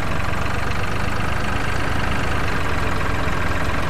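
A tractor engine idles in Farming Simulator 2013, a loud, steady, unbroken rumble that fills the whole moment.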